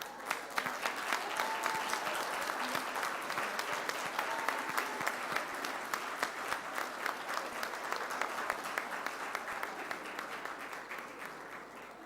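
Audience applause at a 2022 undergraduate graduation ceremony: a large hall of people clapping steadily, fairly distant and even in level, with a few sharper individual claps standing out before it gradually softens.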